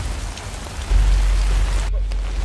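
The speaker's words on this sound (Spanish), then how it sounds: "Está empezando a llover un poco fuerte" Heavy rain pouring down during a powerful typhoon in Japan, a dense, loud, continuous hiss that swells partway through with a deep rumbling undertone.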